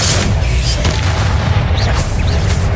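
Hogwarts Legacy video game spell effects as the Expelliarmus disarming charm is cast, a loud continuous booming rumble with dense low-end roar and whooshing layers, heavy and sustained throughout.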